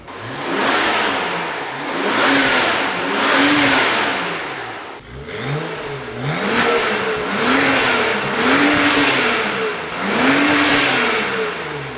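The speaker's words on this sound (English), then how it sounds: "it's time to start the car with the new exhaust and see how it sounds" BMW F10 car engine with a newly fitted exhaust, revving repeatedly in loud, rising and falling surges after starting, heard close and alone.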